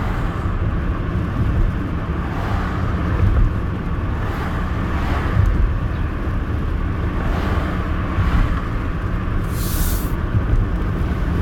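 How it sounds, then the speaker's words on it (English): Wind rushes and buffets through an open car window while driving on a rideshare route in eastern Iowa, a steady loud roar with road rumble beneath and occasional gusty swells, no talking. "It's probably loud with the window open."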